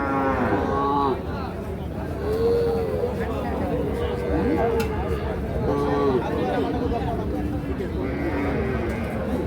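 A cow with her calf at the Ambari cattle market moos loudly several times in long, drawn-out calls over a busy background of crowd chatter and talking.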